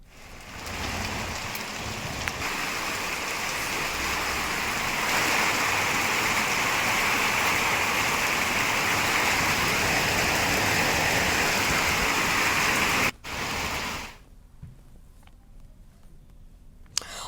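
Steady rainfall in Rishikesh, Uttarakhand, hisses continuously and fairly loudly for about thirteen seconds, a broad even wash of drops, then cuts off into near quiet.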